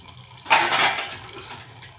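A lid set onto a cooking pan, a single close clatter of metal followed by a short ringing scrape, then a faint tap shortly after.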